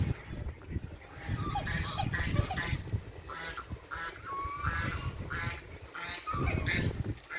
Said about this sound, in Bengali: এখানে আবার রাজহাঁস